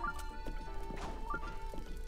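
Black horse in The Legend of Zelda: Breath of the Wild trotting with steady clip-clop hoofbeats, a brisk regular rhythm over a sustained tonal background of game music, close and moderately loud.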